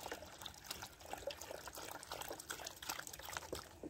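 Water trickles and splashes as it is poured into a bowl for cats, a faint, steady liquid patter heard close up in a quiet room.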